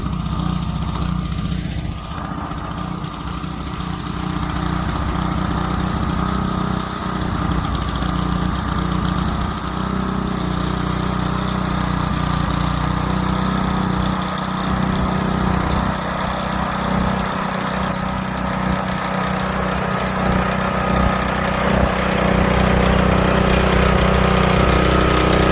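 Craftsman garden engine running steadily after being started, a continuous mid-pitched mechanical drone close to the microphone with slight fluctuations and no talking.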